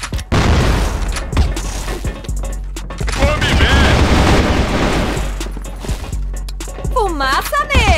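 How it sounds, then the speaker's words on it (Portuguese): Loud in-game explosions and rapid bursts of gunfire from a first-person shooter featuring the M700 rifle, booming blasts and clattering shots overlapping close up, with excited voices talking throughout. "Toma essa granada aí!"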